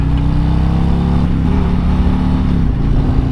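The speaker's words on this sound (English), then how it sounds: "my Boyd let me ride his Road Glide." Harley-Davidson Road Glide motorcycle engine running with a steady, loud low rumble that swells slightly as it revs, heard close up with no talking.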